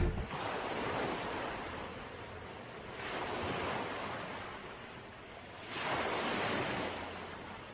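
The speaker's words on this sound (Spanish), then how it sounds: "Mar." Sea waves surge and break in slow, broad swells of wash about every three seconds, with steady wind rushing across the microphone and no voices.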